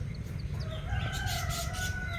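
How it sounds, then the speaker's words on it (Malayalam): Native and coloured-breed chickens cluck and a rooster crows nearby, with bird calls layered over a steady low farmyard rumble; no voices. "ഇതൊക്കെ കളർ കോഴിയാണ്."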